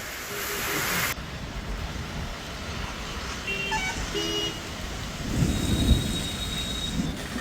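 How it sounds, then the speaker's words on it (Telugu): An unseasonal summer thunderstorm with heavy wind and rain in Rajanna Sircilla district makes a continuous roar of downpour and gusts, swelling into louder rumbling surges near the end. "గాలివాన బీభత్సానికి సంబంధించిన దృశ్యాలు చూస్తున్నాము."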